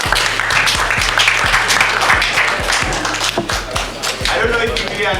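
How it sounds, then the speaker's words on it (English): Applause from students at a tech lab hackathon event, with a rhythmic group clapping pattern over a dense wash of hand claps, loud and close. "you guys deserve a round of applause for making it"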